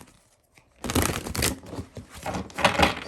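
Oversized tarot cards being shuffled sideways, giving bursts of papery riffling and crinkling in two or three close, fairly loud rustles with short pauses between.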